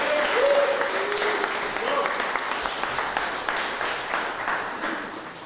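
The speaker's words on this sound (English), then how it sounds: "please give a round of applause to Jim" An audience at a startup day event in Mexico City applauds a speaker, a sustained dense patter of many hands clapping that gradually thins out, with a voice speaking over it.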